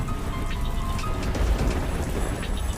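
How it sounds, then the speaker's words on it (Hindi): Steady rain and storm noise in a Hindi village cartoon story, a dense continuous wash of falling rain with low rumbling underneath, fairly loud throughout with no voices. "गांव में बारिश के साथ साथ तूफान भी आया हुआ था।"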